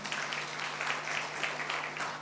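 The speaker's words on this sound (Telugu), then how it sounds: "చప్పట్లు కొట్టండి." An audience claps steadily at a church sermon gathering. The applause is dense and sustained across the whole moment, with a low electrical hum beneath it.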